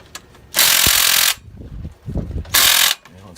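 Two long loud bursts from a power tool loosening a bolt while changing injectors on a Volvo D13 engine, each about a second of harsh whirring rattle with ratcheting clicks and softer clanks between.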